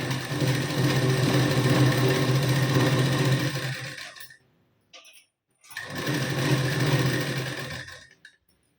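A sewing machine double-stitches a blouse sleeve seam, running in two loud, steady bursts of several seconds each with a short near-silent pause between them and no talking.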